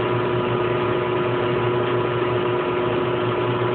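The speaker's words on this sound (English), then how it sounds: "But for a top loader, 760 RPM is very impressive" A 20-year-old Brastemp Baby Mondial top-loading washing machine spins at 760 RPM, a steady loud hum with a constant tone over low rumble, unbroken and alone throughout.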